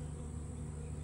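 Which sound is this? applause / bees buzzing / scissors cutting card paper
bees buzzing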